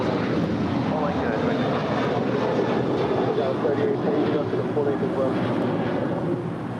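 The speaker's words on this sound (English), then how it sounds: "This is United 1013 departing to Denver. It's a 737-800." A United Boeing 737-800 takes off from LAX with a loud, dense, continuous jet roar and rumble, close and steady throughout, buffeted by wind noise on the microphone.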